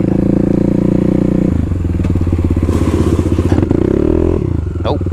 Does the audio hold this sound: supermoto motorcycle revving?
yes